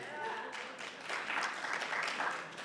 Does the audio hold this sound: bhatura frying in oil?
no